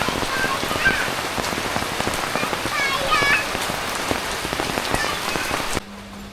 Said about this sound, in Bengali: বৃষ্টি অনুভব করবার লাগছো